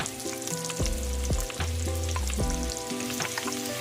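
Marinated pork sizzles and fries in a pan, a loud continuous crackle with stirring clatter and scraping on top, no voices.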